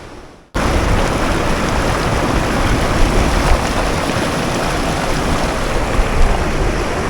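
Broad, steady rushing of a river near El Cocuy in Boyacá, Colombia, starting abruptly after a brief quiet moment and continuing loud and close without pause, with no voices.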